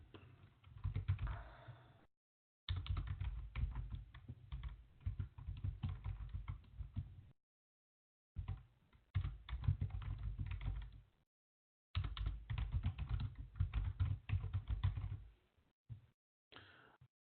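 Keystrokes on a computer keyboard during a Linux command-line session, clattering in dense bursts separated by short pauses, close and clear with no voice over them.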